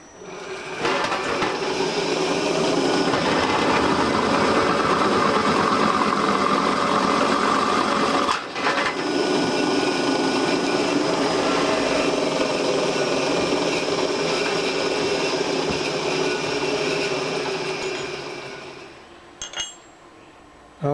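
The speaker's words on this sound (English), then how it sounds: "drill a 13/16 hole in it" A drill boring a 13/16 inch hole in a metal pan for a simple punch and die build, a steady continuous whirring grind for about eighteen seconds with a brief dip midway, then winding down.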